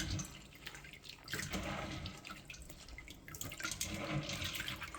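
Dhal lentils are swished and rinsed by hand in water, giving a continuous soft splashing and trickling with faint drips, quiet and close.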